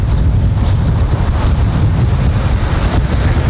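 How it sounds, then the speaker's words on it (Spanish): Strong wind buffets the microphone by the sea in Puerto Rico, a constant loud roar with a washing surf-like rush beneath it and no one speaking. "Lo que hay es como mucho viento"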